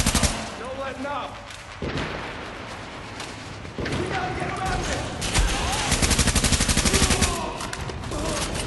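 Gunfire in The Division, a combat video game, plays as dense continuous automatic bursts and heavy booming shots layered together loudly throughout, with a voice talking over the firing.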